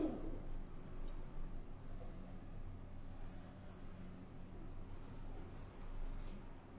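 Caged breeder and flying pigeons, migratory birds flown in the month of Jeth, give soft, low cooing under a steady hum of background noise.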